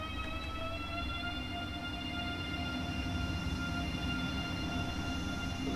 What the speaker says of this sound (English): Love the noise of the Velaros